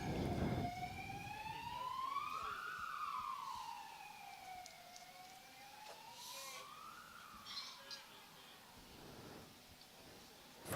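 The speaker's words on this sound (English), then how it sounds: "And another ambulance." Ambulance siren wailing in slow rising and falling sweeps as it passes at a distance, faint beneath a quiet indoor sports hall ambience.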